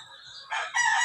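A rooster, a gamecock being conditioned for fighting, gives a short crow that rises in loudness over about a second, close and clear with no talk.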